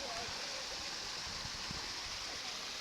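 Creek water rushing over rocks at a culvert on Antietam Creek, a steady broadband wash that stays loud and continuous throughout with no talking.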